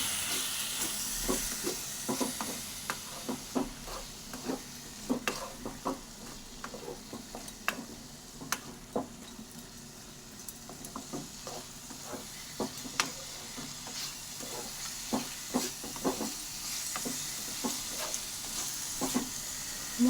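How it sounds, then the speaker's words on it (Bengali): Garam masala, turmeric and salt are stir-fried in oil for chicken kosha, with a steady hissing sizzle and frequent sharp clicks and scrapes of the stirring utensil throughout. "এই মশলাগুলো এবার ভালো করে নাড়াচাড়া করে ভালো করে কষিয়ে নেব।"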